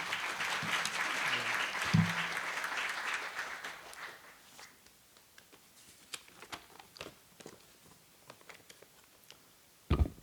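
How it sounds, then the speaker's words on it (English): Audience applause at a Korea University academic session, welcoming a professor up to give opening remarks: dense, steady clapping for about four seconds, then thinning to a few scattered claps and small noises. "Please welcome him with a round of applause."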